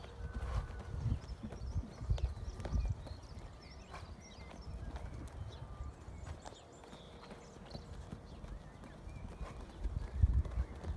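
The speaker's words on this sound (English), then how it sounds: "could you ride him round, double bouncing, flip flopping as much as you can?" Pony hooves clip-clopping steadily while ridden around an outdoor schooling area, a faint rhythmic walking beat with soft low rumble beneath.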